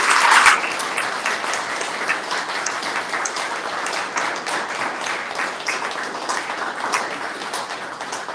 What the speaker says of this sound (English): give a round of applause for our contributors on stage